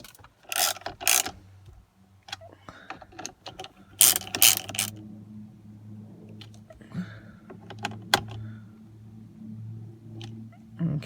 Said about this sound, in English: Now we just need to put our screws back in up here and here.